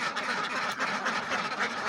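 One-to-two-month-old ducklings quack continuously in a dense, overlapping chorus, several birds close by calling over one another without pause.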